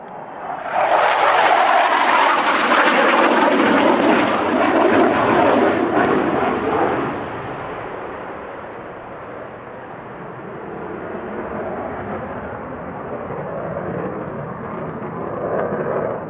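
A Saab Draken jet fighter with a Rolls-Royce Avon engine roars loudly at the Midlands Air Festival 2024 airshow, a broad, rushing blast for about seven seconds that eases into a steadier, fading rumble.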